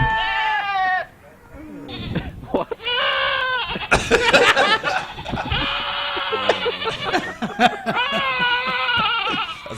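Goat bleating from a video being watched during a gaming podcast, several wavering bleats mixed with people talking and laughing over them.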